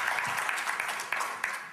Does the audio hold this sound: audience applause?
yes